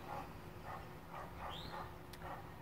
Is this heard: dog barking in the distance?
yes